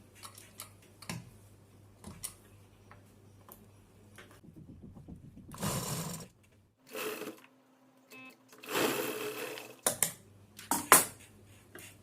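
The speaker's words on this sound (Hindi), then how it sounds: "यहाँ से सिलाई लगाएंगे" A sewing machine stitching a fabric face mask, with short mechanical bursts of rapid stitching broken by pauses, light ticks and handling of cloth, close and fairly quiet with no speech.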